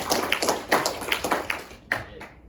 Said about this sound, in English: Everyone clap for Andrew's.